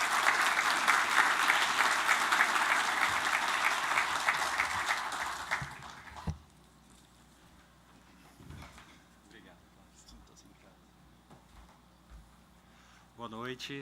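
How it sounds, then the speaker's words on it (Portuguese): An audience at a talk on foundations and deep excavation applauds its two speakers; loud, dense clapping for about six seconds, then it stops abruptly, leaving quiet room noise and a voice beginning to speak. "solicito uma salva de palmas para os nossos dois palestrantes"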